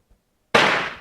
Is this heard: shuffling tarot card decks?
no